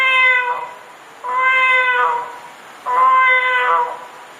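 Three drawn-out meows voiced by a person imitating a cat, each loud, close and nasal with a rising-then-falling tone, separated by short pauses.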